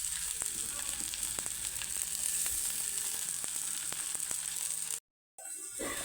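Food roasts and sizzles in a wide, slightly deep pan with a steady, close, continuous crackle that drops out briefly near the end before resuming.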